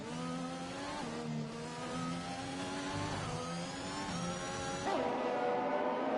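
Race car engine in a sim racing game on the opening lap at Silverstone on soft tyres, revving hard with rising and falling pitch through gear changes and corners, loud and continuous with no talk.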